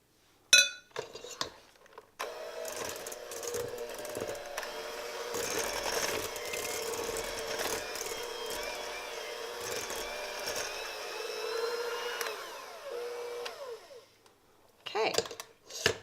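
Toll House chocolate chip cookie dough being stirred in a bowl, with a spoon clinking and scraping against the sides in quick, busy strokes, bracketed by a few sharp knocks of utensil on bowl.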